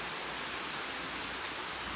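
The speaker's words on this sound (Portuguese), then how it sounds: "Gente, tá muito grossa essa chuva." Heavy rain pouring down in a rural countryside setting, a dense, loud, unbroken roar of falling water close by, with no talking.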